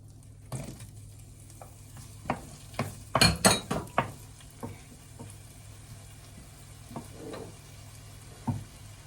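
Onions frying in butter in a pan for chicken curry, with a steady soft sizzle under scattered clinks and scrapes of a utensil stirring against the pan, one busier clattering stretch in the middle.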